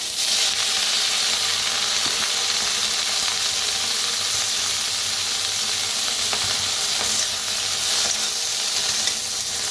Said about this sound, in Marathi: आता ह्याच्यातच घेवडा बी भाजून घ्यायचा।